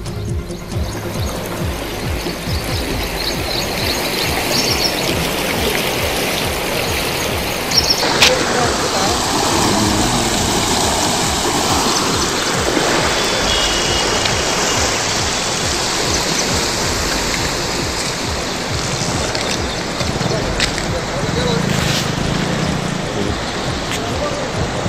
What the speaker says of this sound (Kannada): ರಾಜ್ಯದ ಹಲವೆಡೆ ಭರ್ಜರಿ ಮಳೆಯಾಗ್ತಾ ಇದೆ.